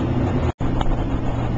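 An HVAC unit on the supply side blows conditioned air outdoors through the open top of an overflow pipe, a steady, loud broadband rush that drops out for a split second before resuming.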